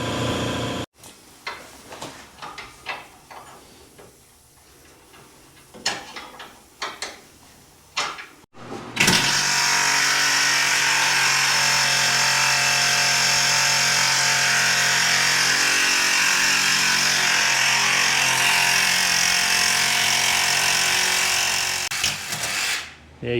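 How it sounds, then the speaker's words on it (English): A Sawzall reciprocating saw cuts a brake line off a 1964 Corvette in a garage, starting after some clanks and handling noises and then running as a loud, continuous buzzing rasp for about fourteen seconds. "you know it's serious when you're breaking out a Sawzall"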